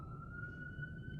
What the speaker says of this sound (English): So, oh, sirens.